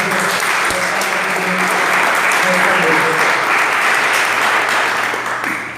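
A church congregation applauds loudly and steadily, with dense clapping from many hands filling the room throughout and easing off slightly at the end.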